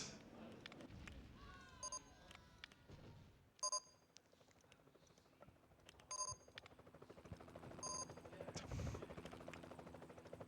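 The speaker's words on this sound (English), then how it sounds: "That's the helicopter of the Animal Protection Society, by the way." A helicopter in the video game Roller Coaster Tycoon 3 thrums faintly beneath a game soundscape, broken by several short, sharp electronic beeps and scattered clicks.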